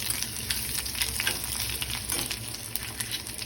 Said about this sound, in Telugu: ఇందులో కొద్దిగా అల్లం పేస్ట్ వేసుకోవాలండి.